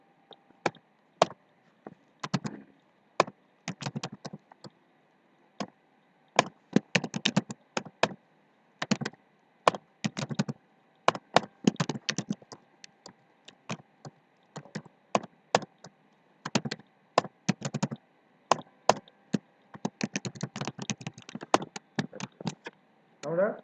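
Computer keyboard typed on while writing ASP.NET MVC class library code, bursts of rapid close key clicks separated by short pauses, crisp against a near-silent background.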